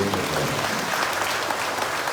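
An audience at a public gathering claps together, a dense and steady burst of applause that carries on evenly from start to finish.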